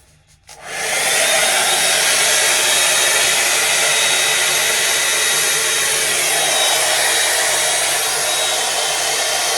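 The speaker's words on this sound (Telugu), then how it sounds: "I'm using this blow brush from make me bold urban yoke." A Make Me Bold blow brush from Urban Yoke switches on and drys hair, its loud steady whoosh starting about half a second in and holding close and constant, with no talk over it.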